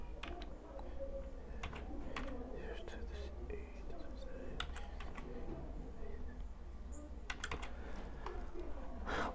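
Keystrokes on a computer keyboard as a license number is entered, a quiet irregular patter of clicks over a steady low hum, with no speech.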